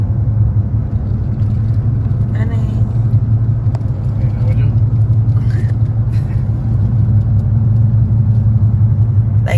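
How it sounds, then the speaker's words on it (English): Steady road traffic in a hurricane-stricken area, with cars stopping and starting near a restaurant: a continuous low engine rumble from nearby vehicles throughout, with speech-like sounds mixed in. "So there's a lot of stop and go traffic"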